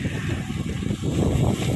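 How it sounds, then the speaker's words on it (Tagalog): Strong wind buffeting the microphone while cycling in a bike lane, a loud low rumble that swells and gusts, with no voices. "sobrang lakas ng hangin"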